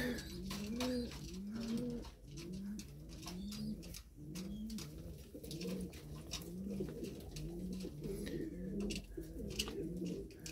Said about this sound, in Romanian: niște păsări destul de interesante